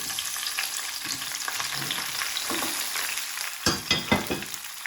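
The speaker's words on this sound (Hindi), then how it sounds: "अब यहाँ पे मैंने ज़ीरा फ्राई कर लिया। यहाँ पे भिंडियाँ डाल देंगे" Okra sizzles in hot oil with fried cumin in a steady close hiss, and several sharp spoon clatters against the pan come toward the end.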